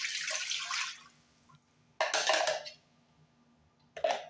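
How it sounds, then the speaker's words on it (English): Gravy pours into a crock pot in short wet splashing bursts, close by and fairly quiet, with pauses between pours. "I'm going to pour in my gravy."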